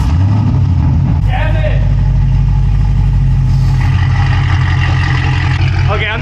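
A Chevrolet Camaro SS engine runs with a heavy low rumble and brief revs as the drive begins, loud and close, with voices talking over it.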